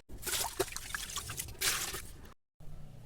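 Basmati rice being washed in water in a cooking pot, with close sloshing, dripping and pouring that runs steadily for over two seconds, a short silent gap, then softer splashing.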